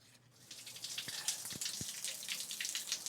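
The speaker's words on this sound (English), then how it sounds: "The water sounds soothing and looks pretty, but it's carrying something ugly into the drain." Stormwater running and trickling into a street storm drain, a soft splashing, gurgling stream with a few distinct drips and plops, close but faint, no voices.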